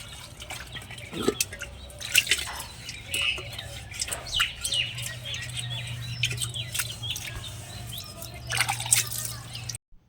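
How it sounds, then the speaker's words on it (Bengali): Water trickling and dripping as dishes are washed at a tube well, intermittent splashes and clinks near the microphone, with birds chirping in the background and a low steady hum. "এই বাসনটা আমি ধুয়ে নিচ্ছি"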